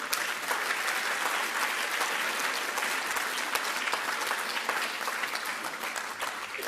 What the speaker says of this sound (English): We have to first and foremost put a round of applause for Friends of Al-Aqsa for putting this together.